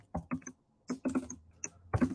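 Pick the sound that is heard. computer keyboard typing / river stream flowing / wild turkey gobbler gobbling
computer keyboard typing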